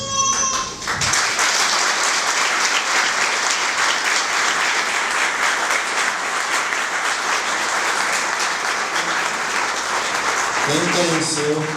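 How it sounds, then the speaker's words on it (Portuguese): Audience applause in memory of Carlinhos Mosman at a Black Consciousness event, a long sustained round of many hands clapping loudly, with a voice briefly at the start and again as it fades. "eu queria pedir uma salva de palmas em memória ao Carlinhos Mosman"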